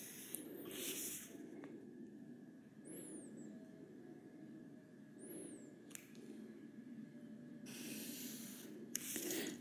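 A pencil draws straight ray-diagram lines on paper during a school reflection practical with a mirror, giving a few quiet, close scratchy strokes that come and go over a faint steady background hum.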